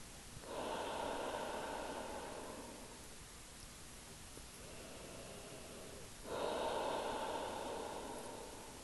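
Two long, breathy exhalations during a home strength-yoga session, each a steady rush of air that swells and fades, close and alone with a pause between them.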